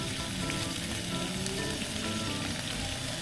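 Beef stir-frying with rosemary in a pan, a dense continuous sizzle and crackle at close range, steady and loud with no talking.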